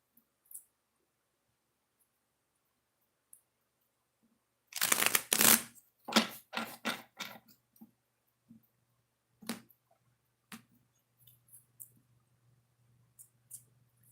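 A deck of oracle cards is shuffled in a quick burst of crisp riffling and flicking, followed by scattered soft taps and clicks in an otherwise quiet room.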